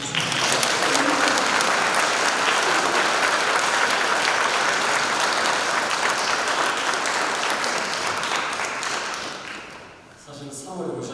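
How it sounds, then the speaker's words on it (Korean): A lecture audience in Korea bursts into steady, dense applause that holds loud for most of the clip, then fades briefly before a final swell of clapping. "여러분들 박수 한번 해주시겠습니다."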